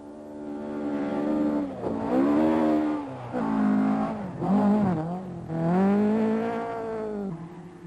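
A little Renault 5 rally car in the 1976 Kuwait Rally drives hard, its engine note repeatedly climbing and dropping in surges of revs between gear changes, a buzzy, moderately loud whine.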